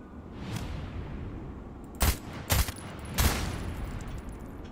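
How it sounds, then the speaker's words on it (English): Gunfire in the video game Moon Mystery comes as three sharp, loud shots in quick succession after a fainter earlier burst, set over a low ambient background. "Who just shot at me?"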